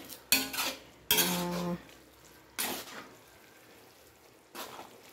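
A utensil stirs rice noodles in a pot of boiling broth, a few scraping, clattering metal strokes in short bursts with quiet gaps, close and fairly faint.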